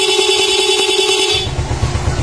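A Suzuki Smash motorcycle horn sounds in one sustained honk for over a second, then stops, leaving an idling engine rumbling close by.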